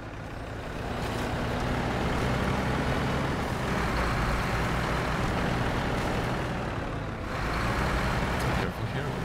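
A large truck drives in the video game SnowRunner, its engine a loud, steady low rumble that holds throughout with no gaps, running alone without talk.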